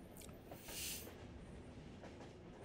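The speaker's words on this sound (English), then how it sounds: "apparently this train's moving for some reason" Moving train in the video game Yume Nikki, a steady low rumbling ride with a hissing swell early on, continuous and alone without talk.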